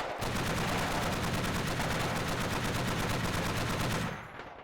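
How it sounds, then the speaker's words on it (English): Sustained rapid machine-gun fire from an entrenched Yugoslav position in a 1999 Battle of Košare video game scene, a dense unbroken burst lasting about four seconds before abruptly cutting off. "the machine gun is still spinning, cutting down any KLA members in the open"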